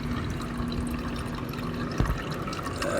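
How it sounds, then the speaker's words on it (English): Coolant drains from the radiator of a 2005 Honda Civic in a soft, steady trickle and spatter, with a brief clink midway. "You can see the coolant coming out."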